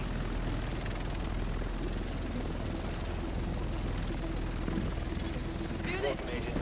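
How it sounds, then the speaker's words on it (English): A helicopter arrives in Tom Clancy's The Division video game, its rotor drone loud and constant throughout, with voices over it. "The rest of us should be in this chopper."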